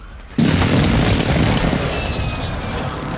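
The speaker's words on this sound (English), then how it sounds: "Precision airstrike on me" A precision airstrike in Fortnite lands in one sudden heavy boom, and a loud rumbling roar carries on for about three seconds.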